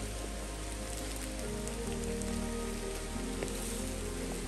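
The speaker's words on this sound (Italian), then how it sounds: "E piove, ragazzi." Rain patters steadily on leaves in a woodland while out hunting porcini mushrooms, a constant close hiss with scattered drops and no talking.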